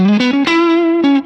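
Electric guitar played through a Sonicake Pocket Master running a Dumble push amp profile with spring reverb, a few sustained gritty notes sliding upward, loud and close with a slight reverb tail and no talking.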